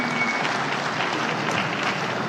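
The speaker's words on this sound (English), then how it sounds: "Let's give him another applause as he makes his way off the stage." An audience at a regional stakeholder forum applauds as a speaker leaves the stage, a dense, even wash of clapping from many hands that holds steady for the whole stretch.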